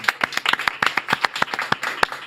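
Studio audience claps to welcome a guest onto a Korean talk show set, a quick burst of brisk, close hand claps with a steady uneven rhythm over about two seconds, no voices on top.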